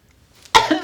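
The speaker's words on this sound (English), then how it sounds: "I'm coughing" A single sharp cough bursts out close by after a brief quiet breath, with a short rough tail.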